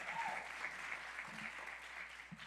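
Applause from an audience at a memorial and reception, a steady wash of many hands clapping heard from a moderate distance, fairly faint and continuous throughout.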